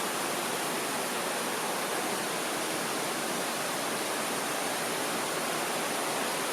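The waterfall at Cascadas El Chiflon in Chiapas gives off a constant, dense roar of falling water, loud and even from start to finish with no voices.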